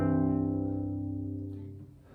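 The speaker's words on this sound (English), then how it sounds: "You can also pluck chords." A single full cello chord plucked pizzicato rings out, its several strings sounding together and slowly fading over about two seconds, close and alone.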